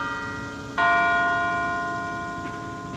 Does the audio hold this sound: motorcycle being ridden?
no